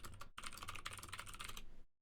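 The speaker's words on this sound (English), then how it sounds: "Oh, you can hear the little click-clack of my keyboard." Rapid, steady click-clack of a computer keyboard being typed on up close, with one brief pause early on, alone without any voices.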